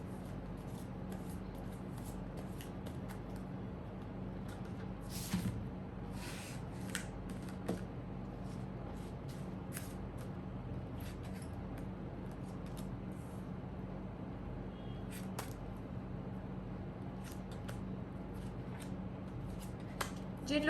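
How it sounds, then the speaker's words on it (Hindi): Tarot cards shuffled by hand in a quiet room, giving a faint, steady papery rustle with occasional sharper flicks throughout, no voices. "कार्ड्स शफल कर रही हूँ"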